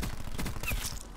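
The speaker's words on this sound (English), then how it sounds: "I'm getting shot in the back." Gunfire in a first-person shooter video game, a rapid burst of close, loud shots fired in quick succession over about a second.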